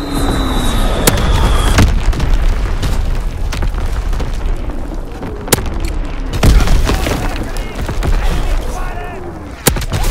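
Heavy artillery strikes from a World War II shooter game land as repeated loud booming explosions with sharp crack transients, spread irregularly over a dense rumbling battlefield bed of distant gunfire and effects.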